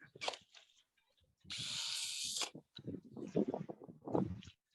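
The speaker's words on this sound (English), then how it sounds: "Gotta be careful that drill doesn't get away from you." A power drill sanding a turned wooden bowl whirs in a sustained burst, with shorter grinding bursts and scraping against wood before and after.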